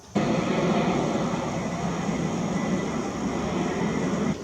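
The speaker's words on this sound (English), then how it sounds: "Plane just almost flew through the moon." An airplane flies overhead at night with a steady, broad roaring drone that holds at an even level throughout, loud and close with no talking.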